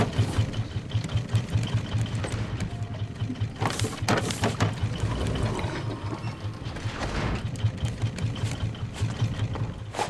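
Boat engines in the game Raft run with a steady mechanical chugging and rhythmic clatter, moderately quiet and continuous, with a few louder splashy bursts over the drone.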